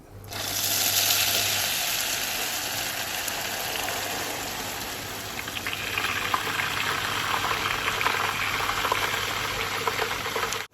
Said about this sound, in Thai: หลังจากนั้นเราเทไข่ผ่านตะแกรงนะครับ